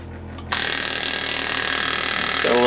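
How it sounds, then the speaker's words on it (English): A jam nut being locked down on a homemade hand engraving hand-piece, giving a sudden loud onset into a steady close mechanical buzzing rattle that holds for a couple of seconds. "Lock my jam nut down."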